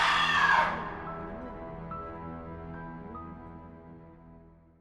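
A scream for a horror story bursts out loud and shrill at the start, then fades into a long echoing reverberant tail that slowly dies away, alone with no speech.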